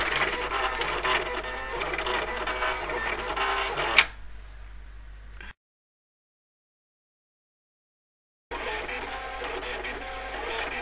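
A Silhouette Cameo cutting machine cuts paper bunting, its busy mechanical whirring and chattering carrying on steadily for about four seconds, then fading into near silence, stopping entirely for a few seconds and starting again.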